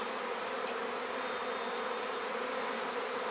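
Honey bees at a beehive hum in a dense, continuous buzz, fairly faint and even throughout, with no voices.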